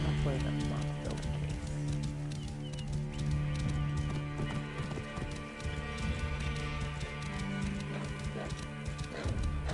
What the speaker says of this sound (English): Love the horse sound effects.